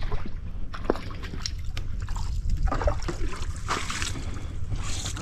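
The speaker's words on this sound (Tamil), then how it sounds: "தண்ணி இங்கேருந்தே இறச்சி ஊற்றுறோம்" Splashing and trickling water as it is scooped and poured out of a small pond to catch fish, set against a steady low rumble, close by and fairly constant.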